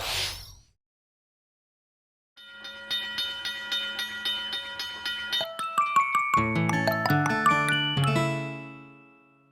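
A rail and tram sound effect for a Super Nintendo Land attraction starts after a brief silence. A chugging, clattering rhythm builds in loudness with a bright whistle-like tone over it, then fades out.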